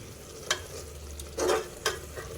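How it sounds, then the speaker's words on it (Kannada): A pot of palak pulao mixture bubbles in oil, giving a low continuous simmer broken by a few soft stirring clicks and bubbling bursts, close and fairly quiet, with no voices. "ಈ ಥರ ಕುದಿಯತ್ತೈತೆ ನೋಡ್ರಿ"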